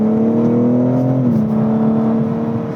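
A BMW M4 Competition in M mode, its engine droning loudly and steadily from inside the cabin, the pitch dipping slightly midway as it eases off under braking, with no talking.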